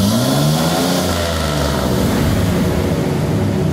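Vortec car engine with an excess-fuel fault revved harder toward 4000 rpm, then released, its loud roar sweeping up and then winding down as the throttle lets go, with no voices.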